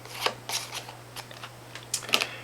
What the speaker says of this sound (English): And then you shuffle that back into the deck.